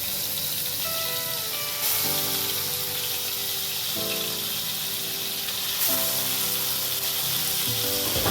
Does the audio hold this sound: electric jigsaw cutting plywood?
no